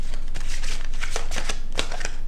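Playing cards riffled and shuffled, then one drawn from the deck, a dense run of crisp close flutters and snaps in steady bursts with no voices.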